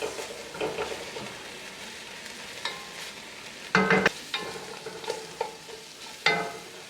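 Smoked pigtails fry in a pot as their fat renders, with steady low sizzling broken by a few sharper stirring scrapes and clatters near the cook.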